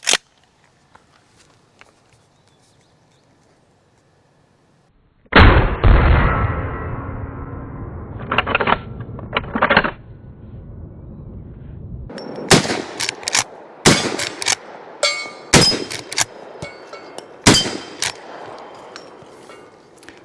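Taylor's & Co. Alaskan .44 Magnum lever action rifle fired outdoors after a quiet start: one loud shot with a long ringing decay, a few more spaced shots, then a quicker string of sharp reports.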